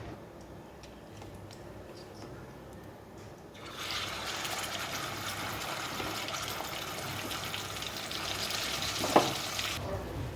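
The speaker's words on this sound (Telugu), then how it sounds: "ఇప్పుడు రొయ్యలు అయితే మనం ముందుగా ఒకసారి ఆయిల్లో ఫ్రై చేసుకోవాలి" Raw prawns frying in hot oil for a gongura curry: quiet kitchen ticks at first, then a broad sizzle bursts in a few seconds later and holds steady until the end.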